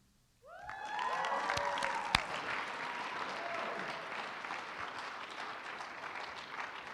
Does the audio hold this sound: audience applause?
yes